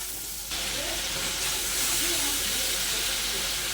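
Spices and masala frying in a pan for stuffed pointed gourd dorma with meat filling, a steady loud hiss and sizzle that swells after a quiet start, with no clear stirring strokes.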